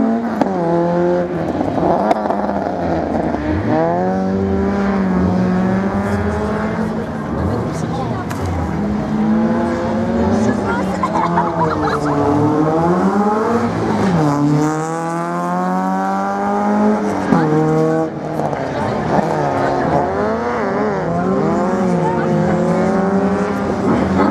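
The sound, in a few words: Citroën Saxo race car accelerating in slalom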